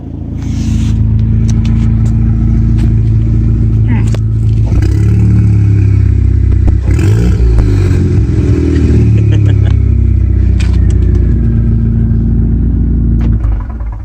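A Camaro with the 2.0T engine and an aftermarket downpipe runs loud and close, its exhaust rumbling steadily with a few revs swelling through the middle, while a voice talks over it.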